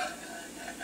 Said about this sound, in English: I put the garlic in the oil.